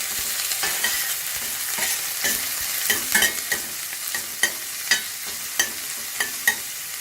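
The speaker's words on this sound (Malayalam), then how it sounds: "ചെറിയൊരു കഷ്ണം ഇഞ്ചി കൂടെ ചെറുങ്ങനെ കട്ട് ചെയ്തിട്ട് ഇട്ട് കൊടുത്തിട്ട് നന്നായിട്ടൊന്ന് വഴറ്റിയെടുക്കാം" Finely chopped ginger sautéing in a pan for chicken sambar, a low continuous sizzle punctuated by regular sharp scrapes and taps of a spatula stirring, close up with no voices.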